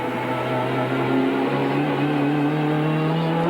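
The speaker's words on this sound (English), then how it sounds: "Just listen to the wheels buzzing. You hear that turbo come on like a bomb." A 1992 turbocharged race car engine drones steadily and loud with a rising whine, tires buzzing as they spin on a wet track, continuous with no pauses.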